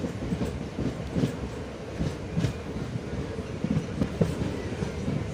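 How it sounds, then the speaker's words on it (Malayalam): Passenger train running on the busy Kollam–Kayamkulam main line in Kerala, between Karunagappally and Ochira, heard as a steady close rumble of wheels on track with recurring rhythmic clatter over rail joints, no voices. "ട്രെയിൻ ഇപ്പോൾ കരുനാഗപ്പള്ളി സ്റ്റേഷൻ വിട്ടിരിക്കുന്നു."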